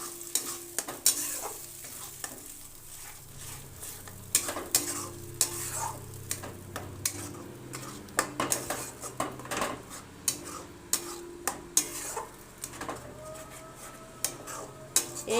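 Spatula stirring mashed flat bean paste with onion and garlic in a hot pan, steady scraping and clinking strokes over a continuous sizzle, close and fairly loud with no talking.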